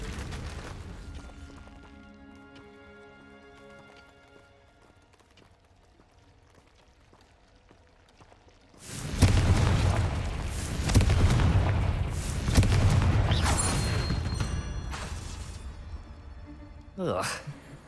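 A Confringo blasting spell goes off in the video game Hogwarts Legacy. A quiet musical stretch gives way to a loud, booming explosion with a long rumbling tail, and another sharp burst follows near the end.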